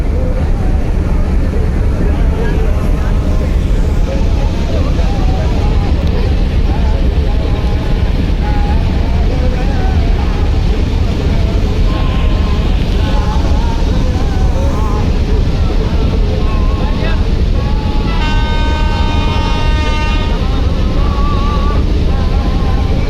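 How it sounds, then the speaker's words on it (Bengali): Passenger river launch departing during a Bangladesh launch race, a loud continuous engine drone and rumbling water churn, with a horn-like tonal blast near the end and voices mixed in. "লঞ্চটি ছেড়ে দিয়েছে।"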